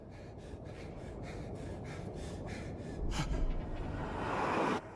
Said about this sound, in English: The remake swaps James's written dialogue for panicked breathing as he steels himself for the jump.